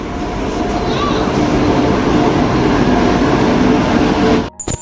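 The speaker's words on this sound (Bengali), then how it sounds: "ট্রেন আসছে।" A train pulls into Bardhaman station with a loud, steady rumble of wheels and carriages close by, the noise holding level before cutting off abruptly near the end.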